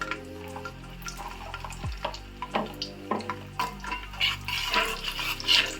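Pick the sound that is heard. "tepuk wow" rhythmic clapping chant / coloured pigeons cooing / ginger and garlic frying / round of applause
ginger and garlic frying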